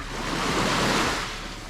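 Ocean waves crash and wash onto Empurancak beach in Jepara, where sandbags guard the eroding shore, a steady close roar of surf with a swell in the middle and some wind noise, no talking.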